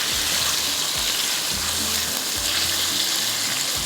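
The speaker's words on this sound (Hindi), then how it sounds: "तो लहसुन साथ में फ्राई हो रहा है" Garlic and minced chicken frying in a pan give off a dense, steady sizzle close by, with a few low clunks of stirring underneath and no talking.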